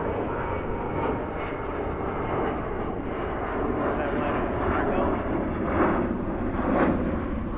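An American Airlines airliner in special livery passes at night near DFW airport, its broad engine roar steady and moderately loud throughout, with faint voices under the noise.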